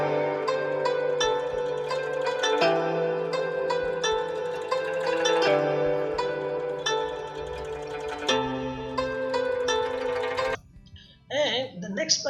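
Plucked guzheng notes ring out in a flowing melodic pattern with a wide, spacious stereo-effect shimmer, ending in a short burst of airy, wobbling texture.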